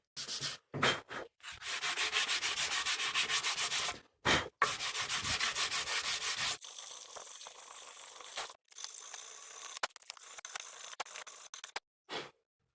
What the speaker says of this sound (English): Just need to sand these little bits of wood filler all along here.